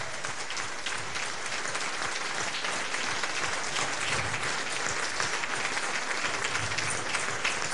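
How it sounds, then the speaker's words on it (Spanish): A church congregation keeps up dense, steady applause for several seconds, with many hands clapping at once in a continuous wash of sound. "Pero apláudalo bien"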